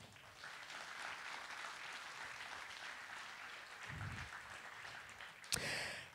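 Audience applause welcoming Dr. Luc Julia to the stage at a talk on generative AI, a steady, moderately distant clapping crowd with a brief low rumble and a sharp bump near the end.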